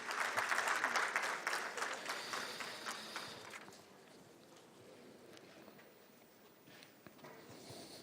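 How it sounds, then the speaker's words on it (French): Applause from a conference audience at an insurance-market panel, fairly full at first, then thinning and fading into a quiet room hush after a few seconds. "Sous vos applaudissements"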